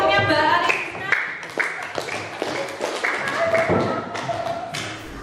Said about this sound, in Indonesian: tepuk tangan untuk kelompoknya Mbak Arisna.